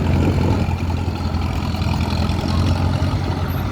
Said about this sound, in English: So following the Fordson E27N, we have the Massey Ferguson